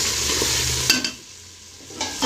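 Potatoes sizzle and crackle steadily in a hot pan, with short scraping stirs of a utensil and no talking.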